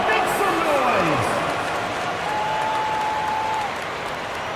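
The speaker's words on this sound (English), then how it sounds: "Fans, please give a big round of applause for your youth dance squad." Crowd applause and cheering fill an arena in the NBA 2K25 basketball video game, a steady broad roar throughout while an announcer's voice carries over it.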